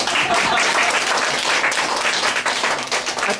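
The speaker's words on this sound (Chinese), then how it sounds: "再一次鼓掌好不好？" A church fellowship audience claps for a pastor after a talk at a Taiwanese-language service, a full burst of many hands applauding steadily, close and loud, tapering slightly at the end.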